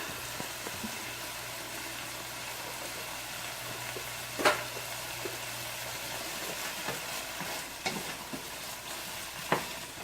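Sirloin beef for chili cooks in a pan with a soft, steady sizzle and a few faint stirring knocks.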